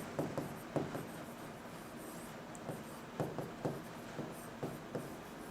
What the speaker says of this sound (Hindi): इसको मैं लिख रहा हूं